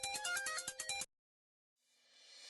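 A phone ringtone plays a rapid melodic pattern for about a second, then cuts off into silence before a faint broadband hiss rises.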